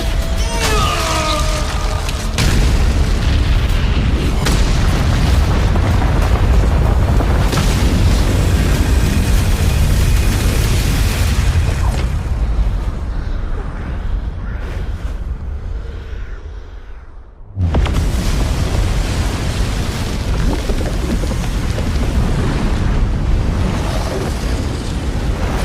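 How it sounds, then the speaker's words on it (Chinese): A massive blast in an animated Chinese fantasy series rumbles as a sustained, loud roar with deep bass, fading into near silence before another powerful surge of roaring noise returns and carries on. "难道他有自信在这最强爆炸中存活？"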